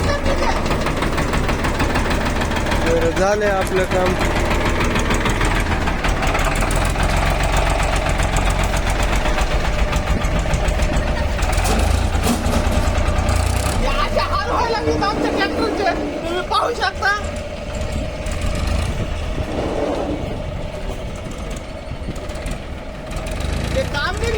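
A tractor engine runs steadily nearby with a knocking, rumbling idle, and voices talk over it at times.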